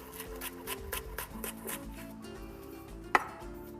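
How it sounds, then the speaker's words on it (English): A knife chops scallions on a cutting board in a quick run of sharp, close taps that slow and thin out, ending with one louder knock. "I also need to cut a little bit of scallion for this dish."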